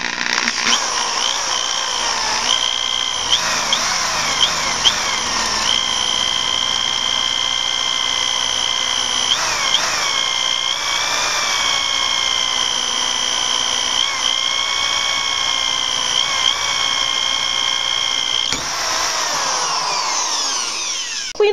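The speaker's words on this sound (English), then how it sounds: "We're going to just apply a small amount of pressure to the drill, and we're going to take it easy" A power drill bores slowly with light pressure into metal held in a vise, giving a loud steady whine with sharp harmonic overtones that shift slightly in pitch as the bit bites, running continuously with no talk.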